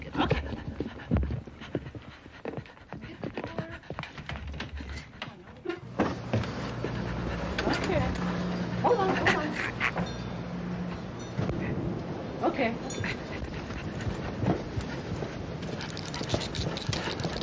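A dog pants on a leashed walk, quick rhythmic breaths heard close alongside scuffing footsteps and jingling, with a person speaking briefly.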